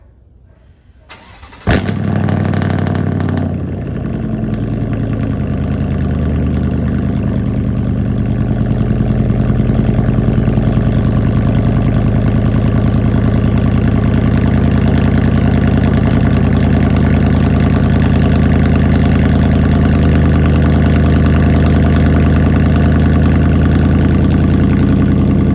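A 2021 Chevrolet Silverado with true dual catback straight pipes cold-starts after a quiet moment, cranking sharply and then settling into a loud, steady, deep rumbling idle that continues to the end.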